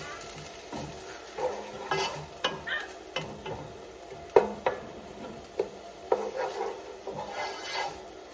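Food browns in a frying pan with a low sizzle, broken by irregular wooden spoon knocks and scrapes against the pan, close and fairly quiet.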